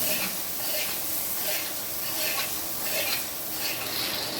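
Mutton fat sautéing in a pot for mutton kosha at a village picnic, a steady close sizzle and hiss with faint stirring scrapes, continuous throughout.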